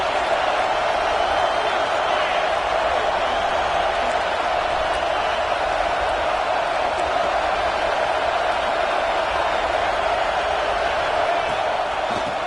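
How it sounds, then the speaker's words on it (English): A football stadium crowd gives off a dense, steady roar that holds at an even loudness from start to finish with no breaks, like a wall of distant cheering and chatter. "This crowd bringing the energy and noise early."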